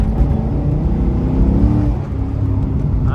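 A Corvette C6 Z06 pulls hard in second gear, its loud V8 roar steady and close from inside the car, with the engine note climbing toward the end.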